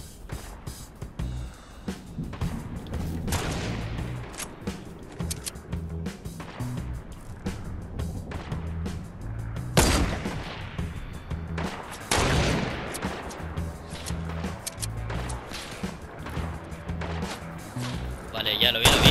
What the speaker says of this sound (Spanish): Acá también hay, bueno, disparos por todos lados.